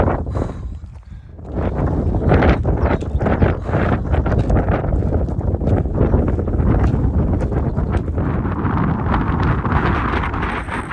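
Strong gusting wind buffets the microphone on an exposed mountain section of the Pacific Crest Trail, a loud continuous roar with surging gusts that fills the whole stretch, with no talking.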